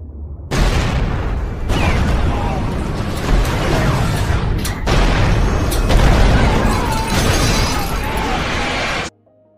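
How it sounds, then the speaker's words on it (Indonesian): Heavy bomb blasts from a British destroyer's attack rocking the German submarine U-571 in a World War II film, a sustained, loud roaring rumble with several booming surges before cutting off abruptly. "ledakan dari bom kapal Inggris mengguncang U571"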